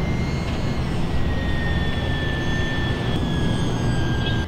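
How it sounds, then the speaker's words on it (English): A small radio-controlled model airplane flies overhead outdoors, its thin, steady high-pitched motor whine drifting slightly in pitch above a constant broadband rush of wind and road noise. "oh, there's a little RC plane in the air."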